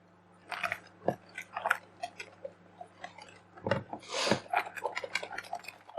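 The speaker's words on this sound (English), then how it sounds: "And now we start slowly whisking" Chocolate loaf cake batter, dairy-free and gluten-free, is whisked slowly by hand without a mixer, giving close, quiet scraping and tapping strokes in an irregular rhythm.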